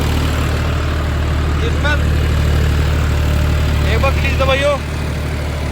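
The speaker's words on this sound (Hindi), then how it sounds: "एक बार मैं ट्रैक्टर पे चढ़ के आपको दिखा दूं कि कितने चक्कर ड्रॉप कर रहा है" A John Deere tractor's diesel engine runs at a steady low rumble close by while someone speaks over it. The engine hum stays constant throughout and eases slightly near the end.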